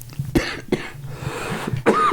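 Several sharp coughs burst out in quick succession, close and loud, with a throaty rasp between them and a final harsher cough at the end.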